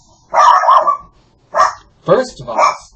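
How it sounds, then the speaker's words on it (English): An excited dog barks in short, loud bursts close by, a couple of quick yips followed by more barks indoors. "Corn Dog is very excited."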